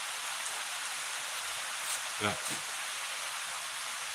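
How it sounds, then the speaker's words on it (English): Heavy rain drums on an uninsulated metal shop roof as a dense, steady hiss that fills the space. Someone speaks briefly over it. "it's raining like hell here. I'm in a shop with an uninsulated metal roof."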